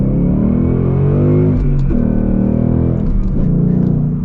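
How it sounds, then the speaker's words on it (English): Manual Ford Mustang GT V8 accelerating hard, a loud close engine roar climbing in pitch through a gear, a brief dip at a shift, then rising again without any talk. "Man, that V8. So we're gonna get our full-blown acceleration here."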